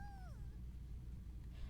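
A cat gives one short meow that falls in pitch at the start, then it goes quiet under a steady, low background hum.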